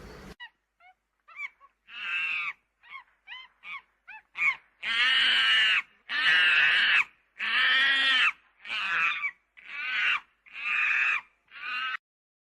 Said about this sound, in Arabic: قرد